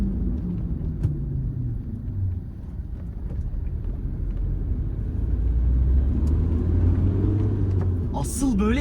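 A Hyundai Getz 1.5 CRDi VGT diesel hatchback accelerates, its engine drone and turbo spooling building steadily in a continuous rumble heard from inside the car, with occasional voices.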